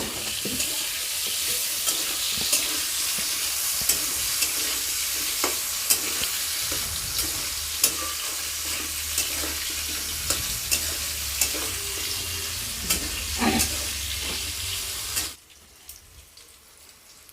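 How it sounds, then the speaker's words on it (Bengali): Boiled green jackfruit, salted and coated in turmeric, fries in a wok with a steady close sizzle while a spatula scrapes and knocks through repeated stirring strokes. The sound drops away abruptly near the end. "সেই সিদ্ধ এঁচোড়গুলো আমি কড়ার মধ্যে দিয়ে এবার ভালোভাবে একটু ভেজে নেব।"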